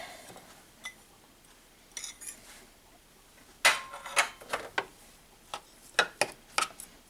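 Cornstarch-dusted fried tuna being mixed in a dish: sparse, irregular clinks and scrapes of a utensil against the dish, close and moderately loud, no talk.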